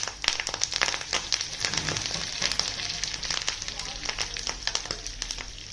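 Cumin seeds, mustard seeds and curry leaves crackle and sizzle in hot oil, a busy, steady spatter of sharp pops close by, with a low background hum.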